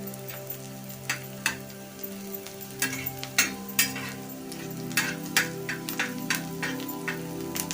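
Onion frying in a pan for tomato chutney, a steady soft sizzle with irregular crackles and pops throughout, close by and moderately quiet.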